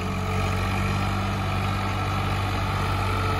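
Tractor engine runs steadily while hauling a trolley of wet soil, a continuous low diesel drone with a constant throbbing hum and no break in its loudness.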